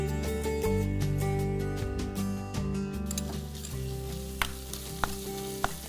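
Prawns and finely chopped carrot sizzling and crackling in a pan, with a constant close frying hiss and occasional sharp pops and stirring scrapes near the end.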